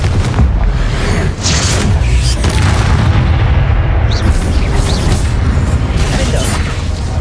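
Confringo blasting spells exploding in the video game Hogwarts Legacy, with dense, loud booms and rumbling blasts layered over continuous low battle noise.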